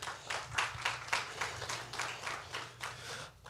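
A small audience at a S.T.E.A.M. careers conference claps steadily, with individual claps distinct and fairly close, the round lasting a few seconds and tapering at the end.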